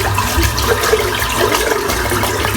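A shaving brush is rinsed under a steady stream of running water from a tap, a continuous close splashing and gurgling wash with no voices.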